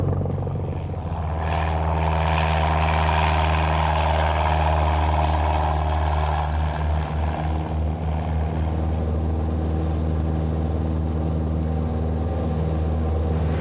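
A light aircraft engine running steadily on the runway at Cahors, lined up for takeoff: a loud, continuous propeller drone with a low, even hum and a faint pitch shift partway through, alone with no voices.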